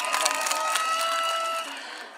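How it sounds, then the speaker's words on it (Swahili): A rally crowd claps and cheers loudly and steadily, a dense wash of hands and voices that trails off softer near the end. "Tupigie makofi"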